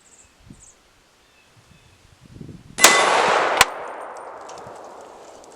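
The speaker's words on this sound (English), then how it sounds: "This is my 308. Let's take a couple shots and hopefully we hit it." .308 rifle shots at an outdoor range striking a steel CrossFit plate: a sharp loud crack followed by a second report, with a ringing decay trailing off after quiet rustling.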